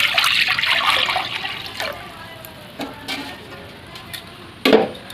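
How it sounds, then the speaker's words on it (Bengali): Water is poured into a wok in a splashing rush at first, then fades into scattered drips and clinks, ending with a louder splash. "তো এখানে কড়ার মধ্যে দেবো জল।"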